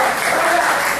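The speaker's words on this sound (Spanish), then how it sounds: "Denle un aplauso fuerte a Jesús." Church congregation applauding loudly during a Spanish-language sermon, a dense continuous wash of clapping filling the whole moment without pause.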